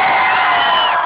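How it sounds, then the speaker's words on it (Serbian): A large crowd at a public celebration in Belgrade cheers loudly, a dense sustained roar of voices and whoops, close and brief. "Aplauz za Anu"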